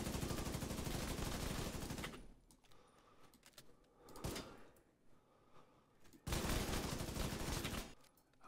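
Rapid automatic gunfire in The Division 2 shooter game, loud sustained bursts of about two seconds each at the start and end, with a single sharp shot and quieter clatter between them.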